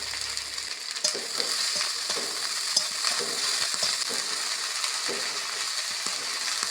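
Moringa flowers stirred in a pan with salt and turmeric, giving a steady sizzle and scraping with scattered clinks from the spatula, continuous and close, with no talking.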